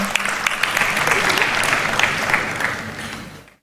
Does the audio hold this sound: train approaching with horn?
no